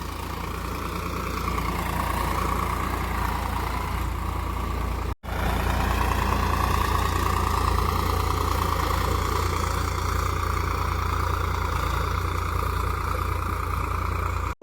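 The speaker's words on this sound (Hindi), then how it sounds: "इधर देख सकते हो कैसे ट्रैक्टर चल रहा है" A tractor engine works a field during ploughing in Mungeli, Chhattisgarh, a loud, steady low rumble that dips briefly for a moment, then carries on unbroken.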